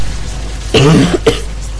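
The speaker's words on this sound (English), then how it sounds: "Excuse me for that cough right there." A single cough from a game commentator during a StarCraft match cast: a harsh burst followed by a brief second catch, close and loud over a steady low hum, with no talk.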